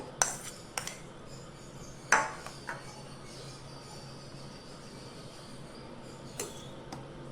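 A spoon stirs chopped fruit such as banana and ripe mango into custard in a bowl, giving a few sparse, faint clinks and scrapes against the dish with quiet pauses between them.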